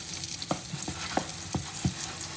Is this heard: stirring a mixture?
yes